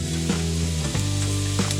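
Oil sizzling in a pan, a steady crackling hiss with a few soft clinks, close and fairly loud.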